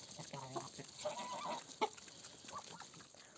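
Chickens cluck softly nearby while feeding alongside geese in winter, short burbling calls mixed with faint outdoor ambience and quiet background voices, at low volume.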